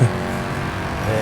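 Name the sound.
race car engine in video game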